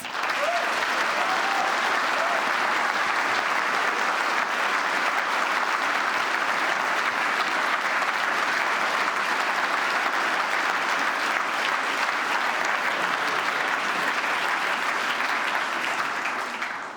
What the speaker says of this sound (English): This deserves a big, big round of applause.